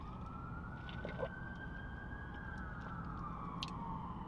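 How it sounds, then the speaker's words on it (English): Several police car sirens wail together in a city street in Portland, heard faint and distant as one steady, slowly shifting tone over a low hum of background noise, with no talking. "3 cop sirens going off at the same time right when I start my camera."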